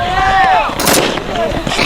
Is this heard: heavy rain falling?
no